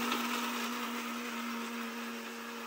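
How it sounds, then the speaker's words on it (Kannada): Mixer grinder blending masala ingredients with a little water in the jar, a loud steady motor whine with a constant hum, running uninterrupted at close range. "ಉಳಿದೆಲ್ಲ ಇಂಗ್ರೀಡಿಯೆಂಟ್ಸನ್ನು ಈಗ ಮಿಕ್ಸಿ ಜಾರಿಗೆ ಹಾಕಿ ರುಬ್ಕೋಬೇಕು"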